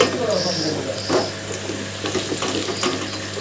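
Onions fry in ghee alongside green chilli and garlic in a home kitchen, a steady close sizzle with soft scraping and clinks of stirring throughout.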